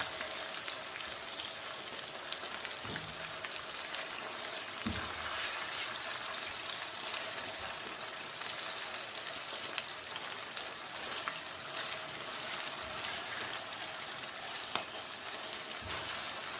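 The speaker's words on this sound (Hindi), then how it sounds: "अब इसको हम 5-6 मिनट के लिए इसमें फ्राई करेंगे।" Chicken breast pieces fry in a pan for a chicken and chickpea curry, giving a continuous even hiss with occasional soft knocks, steady and fairly quiet throughout.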